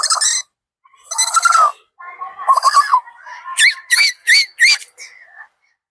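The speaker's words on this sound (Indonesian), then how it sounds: "Di atas pohon, seekor burung sedang hinggap." A bird perched up in a tree gives a string of high, squeaky chirps and whistles, loud and close, in short separate bursts with brief silences between them.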